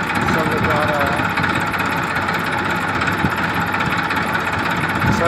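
Massey Ferguson 1035 tractor engine running steadily, a continuous mid-low rumble with vibration that stays loud and even throughout, close to the listener.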